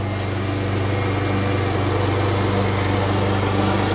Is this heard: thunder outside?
no